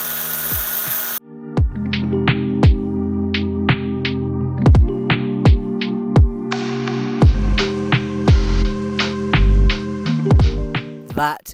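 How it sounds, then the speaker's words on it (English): A power tool whines in repeated short bursts while grinding down a steel brake line clip on a Volvo V50 being fitted with a new braided line, each pass rising and dropping loudly and up close. "this clip is slightly too small to go on the new braided line, so I'm going to have to grind it down"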